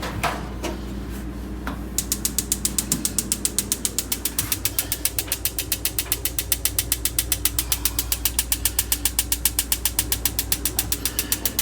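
A propane oven burner is lit in a 2024 CrossRoads Hampton HP390PVL destination trailer: after a few soft knocks, a rapid, even train of sharp mechanical clicks repeats steadily over a low background hum.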